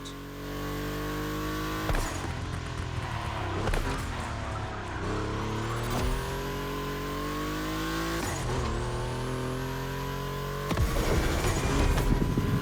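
Race cars from the Volkswagen collection lap a track in The Crew Motorfest, engines revving loudly and continuously with rising and falling pitch as gears shift, several sharp changes in tone, no talking.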